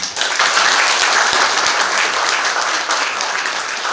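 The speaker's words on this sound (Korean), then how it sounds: "여러분 박수 해주시면" Loud, dense applause from a large congregation at a church service installing a pastor, sustained throughout with no talking.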